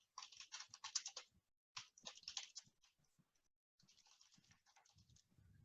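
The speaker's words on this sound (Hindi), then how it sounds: "मैं टाइप करना शुरू कर सकता हूँ" Computer keyboard typing while entering Punjabi text, short bursts of crisp clicks separated by pauses, close and fairly quiet, no voices.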